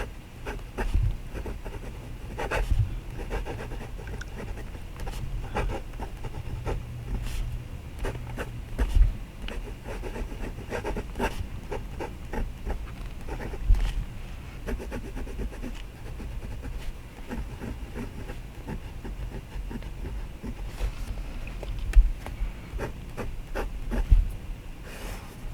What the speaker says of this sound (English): when I first put nib to paper after filling the pen, I really enjoyed how the nib writes